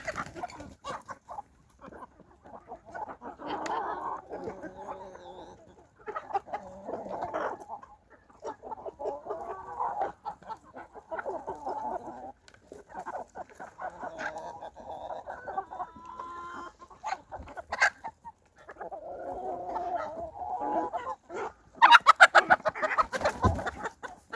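A small flock of four hens and two roosters clucks and murmurs in repeated bursts, close by and fairly quiet, with a louder flurry of calls near the end.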